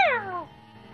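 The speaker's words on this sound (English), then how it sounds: "Go away. Just go away, cat!" A single cat's meow, close and clear, falling in pitch and fading within half a second, then a quiet room.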